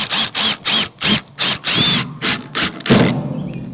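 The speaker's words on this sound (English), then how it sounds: "we're running the screws in through the OSB into the 2x" A cordless power drill drives screws through OSB into 2x lumber in a quick series of short, loud, close whirring bursts. The final run ends in a grinding bind.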